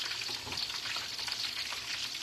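Shrimp egg foo young patties fry in a hot pan, a steady close crackling sizzle with dense spitting oil that runs unbroken throughout, with no voices.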